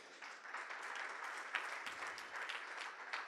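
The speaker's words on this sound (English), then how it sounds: "Please give them a big round of applause." An audience at a pitching competition event gives the judges a round of applause, steady mid-distance clapping that holds throughout at moderate volume.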